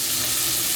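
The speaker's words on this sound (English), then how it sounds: "And make the rest frying here as well." Chicken wings sizzle steadily as they fry in a pan, a dense, continuous crackle of hot oil held at a constant close level for under a second with no voices.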